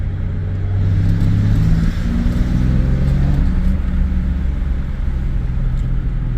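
1996 Chevrolet S10 with a 4.3 V6 and Holley Sniper fuel injection accelerating on a first drive, deep engine drone rising in pitch as the throttle opens, loud and continuous from inside the truck.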